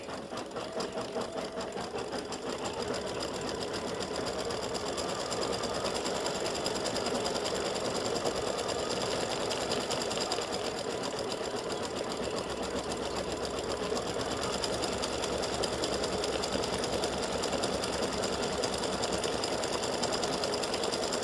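An embroidery machine stitches satin-stitch lettering for a Mardi Gras gnome filled design, its steady, rapid needle chatter running loud and unbroken throughout with no talking.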